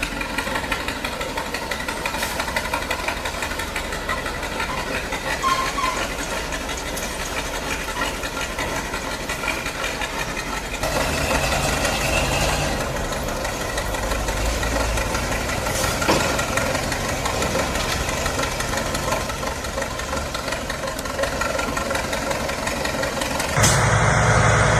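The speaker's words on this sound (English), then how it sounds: "651 crawler excavator stands as a symbol of Soviet mechanical power" A Soviet 651 crawler excavator engine runs at a steady, rough idle, with knocking vibration throughout and a louder, heavier stretch partway through.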